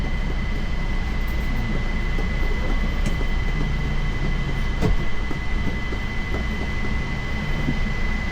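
An airport terminal train at JFK rumbles steadily along the track with a constant drone and occasional clicks and clunks from the rails, close and continuous.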